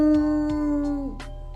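A person imitates a jackal's howl with a long, wavering, sustained vocal tone that rises and then falls away, loud and close, with no other sounds.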